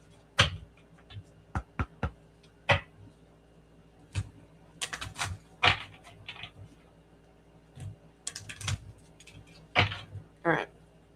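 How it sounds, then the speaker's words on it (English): A deck of cards shuffled by hand during a spirit card reading, giving sharp riffling bursts and taps scattered irregularly over several seconds, close and fairly quiet. "I really am shuffling them, so how they stayed together is so beyond me."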